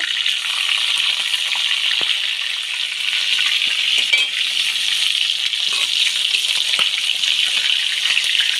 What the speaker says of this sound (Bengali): কাতলা মাছগুলো ভাজা বসিয়েছি